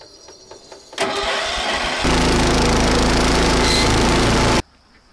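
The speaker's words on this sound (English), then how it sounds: "I've almost finished cutting the lawn." Lawn mower on a grassy slope starting up and then running loud and close with a steady engine drone before cutting off abruptly.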